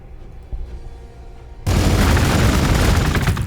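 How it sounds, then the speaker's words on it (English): Units open fire in the strategy game Warhammer 40k Gladius: after quiet background ambience, a sudden loud burst of gunfire and explosions erupts and keeps rattling steadily to the end, no voice over it. "So at this point, we can go ahead and shoot at them."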